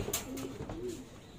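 A racing pigeon that has just arrived home coos softly at close range, giving a short low throaty call over quiet background noise.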